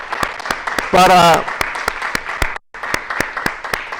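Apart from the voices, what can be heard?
congregation applause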